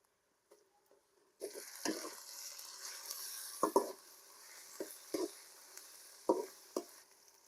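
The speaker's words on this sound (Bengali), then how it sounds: "পেঁয়াজ আর মরিচ দিয়ে দেব, দিয়ে ভালোভাবে ভেজে নিব" Onion and chili frying in spice paste in a pan, a steady soft sizzle punctuated by several sharp stirring scrapes and clacks at irregular intervals, fairly faint and close.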